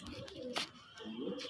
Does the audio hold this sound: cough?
no